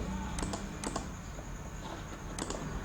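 Computer keyboard keys and mouse clicks during Excel text editing, a few quick clustered clicks spaced across a couple of seconds, fairly close over a quiet room hum.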